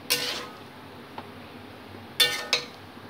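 A metal lid set on a pot of boiling mixed vegetables, with two sharp clinks at the start and a clustered pair of clatters later, over a quiet background with no voices.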